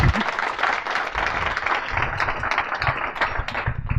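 Applause from a small audience follows a startup pitch, a dense patter of claps running steadily for a few seconds with a voice briefly over it.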